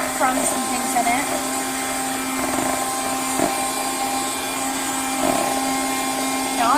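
A Vikeepro handheld 12-volt 120W wet-and-dry auto vacuum cleaner runs on a van floor mat, a loud, steady high-pitched motor whine with brief suction shifts as it lifts crumbs.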